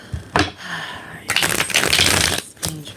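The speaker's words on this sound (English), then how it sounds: "I'm going to go ahead and shuffle." Tarot cards are shuffled by hand in loud, close bursts of riffling and flicking, with a short pause between rounds.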